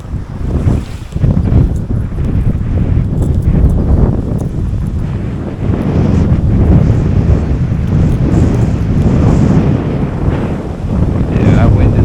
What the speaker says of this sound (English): Yeah, that wind is kicking ass.